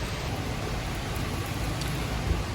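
Rain falls on an afternoon street in a dense, even hiss, close and unbroken, with faint traffic beneath it.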